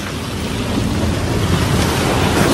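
Sea waves wash at Vizag beach in a loud, steady rushing roar of salt water that swells slightly toward the end.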